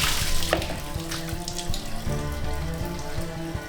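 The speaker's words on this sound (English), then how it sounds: "Everything then gets rinsed off," Running water rinsing butchered lizard meat after skinning and gutting: a steady splashing, trickling stream with clattering handling noises underneath, close and continuous.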